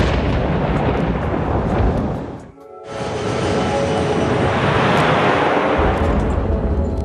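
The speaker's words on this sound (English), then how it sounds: "they head straight into the thunderstorm" Deep, rumbling thunder from a severe thunderstorm rolls loud and close, one long crash that briefly drops away before a second heavy, sustained roll builds again.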